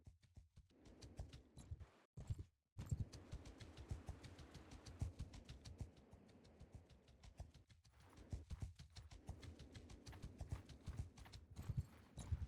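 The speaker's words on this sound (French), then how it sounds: "J'ai un cheval, t'es à pied!" Horse hooves clip-clop steadily in the Mount and Blade II: Bannerlord video game, a continuous rhythmic trot at moderate volume with a brief drop-out near the start.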